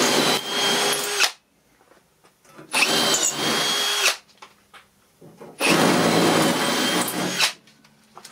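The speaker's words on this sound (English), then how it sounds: "you can then just drill the holes" A power drill drilling holes for a DIY glass-fusing kiln whirs in three bursts separated by short pauses, close and loud, with a high-pitched grinding whine as it bores.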